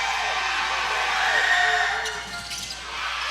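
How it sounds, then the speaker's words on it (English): A college men's basketball crowd, Southern Virginia University against York College, cheering in a gym after a tying shot, a steady roar rising and fading with scattered whoops. "Crowd really getting into it."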